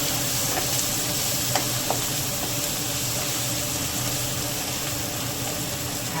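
Spinach and tomato cooking in a pan with turmeric and red chili powder give a steady, close sizzle with a few soft stirring clicks, no voices over it.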